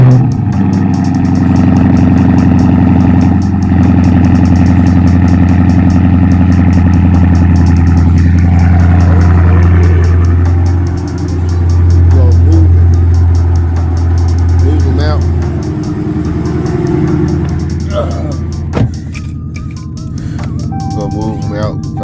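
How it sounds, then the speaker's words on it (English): A car engine idles loudly right after a cold start, a steady deep rumble with a slight rise and dip in revs, while a person talks over it. "we gonna get this cold start and see what it do"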